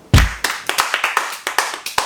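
A small group of about five people claps in the room, a sparse burst of roughly a dozen separate, uneven hand claps close by, with no talking.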